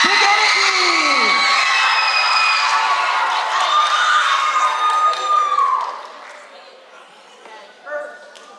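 A crowd at an 8th grade graduation at a school of the arts cheers, whoops and claps loudly, fading toward the end with a few scattered shouts.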